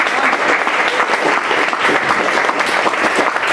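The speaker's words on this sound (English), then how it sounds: "Let's do a round of applause for all of our sponsors" An audience at an open house applauds for the sponsors, a loud, dense and continuous round of clapping from a large crowd with no talking.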